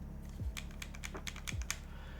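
A Riva V2 mechanical keyboard is typed on, giving a quick, close run of crisp keystrokes with a few heavier thocks among them, over a low background hum.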